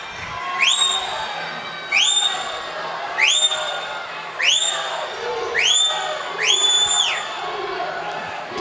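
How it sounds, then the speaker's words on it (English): Sharp, high whistle blasts sound at a coed varsity swim meet, six evenly spaced toots about a second apart keeping breaststroke swimmers on pace, over a noisy indoor pool crowd. "Can hear that whistling"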